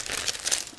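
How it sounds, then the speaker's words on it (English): A plastic bag holding model-kit sprues is crinkled and rustled up close as it is opened, a brief continuous crackling with no voices. "give me a second to open another plastic bag"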